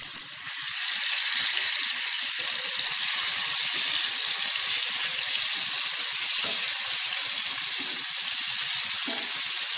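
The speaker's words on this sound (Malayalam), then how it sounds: "ഷാലോ ഫ്രൈ ചെയ്തെടുത്താൽ മതി" Pieces of fish shallow frying in oil in a pan, a steady close hiss and crackle of sizzling throughout with no talking.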